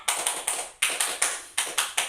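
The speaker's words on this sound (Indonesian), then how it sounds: "Kita akan melakukan tepuk semangat" Children in a fourth-grade primary classroom perform the tepuk semangat spirit clap, a crisp group pattern of quick claps in three short rhythmic phrases, each ending with a pause before the next.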